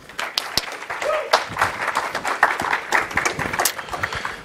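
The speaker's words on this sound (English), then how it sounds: "So a big round of applause for Jeff." An audience claps for a speaker named Jeff before an evening talk at CIIS, a dense, steady round of applause lasting a few seconds with scattered sharp individual claps standing out.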